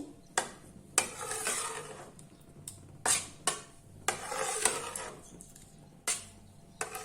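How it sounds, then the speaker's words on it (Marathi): A spoon stirs ghee into a thick Karachi halwa mixture in a pan, giving repeated scraping strokes and soft sticky swishes with faint sizzling between them, close and fairly loud with no talk. "हे मिश्रण आता आपण पूर्णपणे मिक्स करून घेऊ।"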